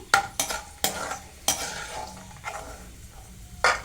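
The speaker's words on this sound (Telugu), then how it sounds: "ఇవి కూడా మంచిగా ఫ్రై అయిపోయినాయి, ప్లేట్లోకి తీసేస్తున్నాను" A spatula scrapes and knocks repeatedly while dry fruits fry in ghee for laddu, with a series of sharp clattering strikes over a light, low sizzle.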